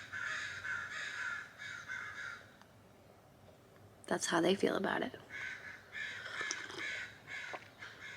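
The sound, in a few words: crows cawing outdoors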